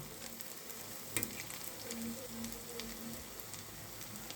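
Lentil and prawn fritters deep frying in hot oil give a steady, close crackling sizzle with a faint low hum beneath and one sharper pop partway through.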